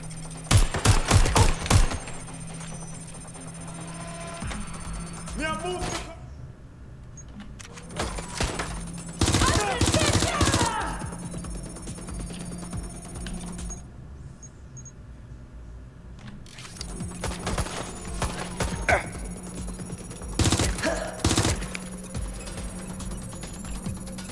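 Gunfire in the video game Watch Dogs Legion: sharp bursts of shots in quick clusters near the start, middle and end, with game sound and music in between.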